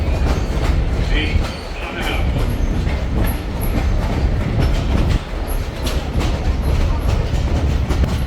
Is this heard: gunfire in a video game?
no